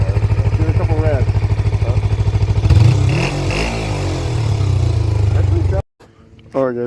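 A 2004 Kawasaki Ninja 250R motorcycle engine fires up close, settling into a rapid, even idle before blipping through a couple of rising revs, then cutting out; a voice comes in briefly at the very end.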